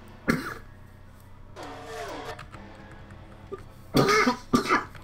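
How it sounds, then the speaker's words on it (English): A man coughs during a racing game session, one sharp cough early, then a throaty vocal sound, and finally a cluster of two or three harsher coughs close to the microphone over a low steady hum. "why am I always coughing while I'm doing these races?"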